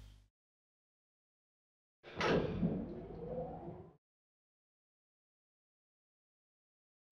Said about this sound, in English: then wait for the other door to close